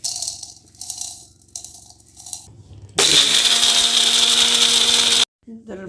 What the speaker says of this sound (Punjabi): ਹੁਣ ਇਹ ਸਾਰਾ ਮਸਾਲਾ ਠੰਡਾ ਹੋ ਗਿਆ ਤੇ ਲੱਗੇ ਮੰਮੀ ਮਿਕਸੀ 'ਚ ਪਾ ਕੇ ਇਹਦੀ ਪੀਸ ਨੂੰ ਪੀਸੀ ਕਰਨ